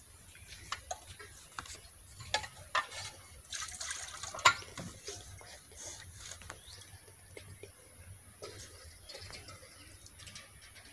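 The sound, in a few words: water running while washing in the kitchen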